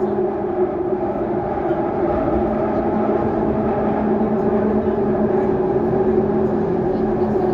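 A London Underground train runs along the line, a steady loud rumble with tonal hum from the carriage, continuous throughout, with no talking over it.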